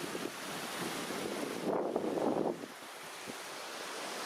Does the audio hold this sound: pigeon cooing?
no